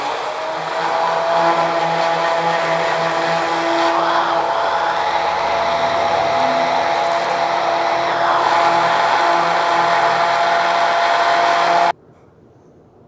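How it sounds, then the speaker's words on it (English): Handheld electric mixer blending a vegan creamy salad dressing with lemon, a steady loud motor whine with a slight pitch shift midway, running about twelve seconds before cutting off abruptly to quiet. "We're gonna use a hand mixer and we're gonna go ahead and blend this."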